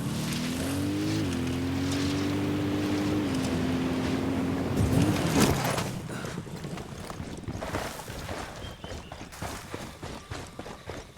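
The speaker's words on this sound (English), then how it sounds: "I'm riding the motorcycle." In the video game Ghost Recon Wildlands, a ridden motorcycle engine hums steadily with shifting pitch for several seconds, then gives way to rougher, noisier rattling and movement sounds.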